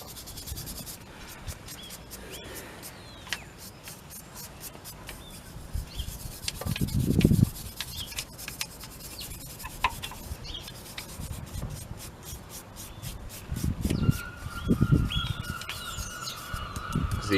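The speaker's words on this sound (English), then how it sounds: "I need probably a stronger wire brush." Wire brush scrubbing rust off Renault Megane front brake parts, heard as soft intermittent rasping strokes with a couple of louder bursts of close scraping, no talking.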